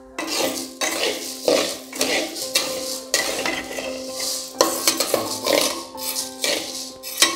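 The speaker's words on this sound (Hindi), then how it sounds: "इसे हम पहले भून लेंगे फिर हम नेक्स्ट प्रोसेस में जाएंगे" Horse gram dal dry-roasting in a pan, with a steady run of metal spoon scrapes and clinks against the pan and a faint sizzle underneath.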